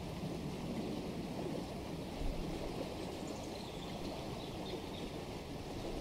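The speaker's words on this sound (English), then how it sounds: "the water rushing through the feet and the sound of that water" Rushing river water roars continuously and fairly softly, a dense broadband wash tumbling over rocks, with no voices.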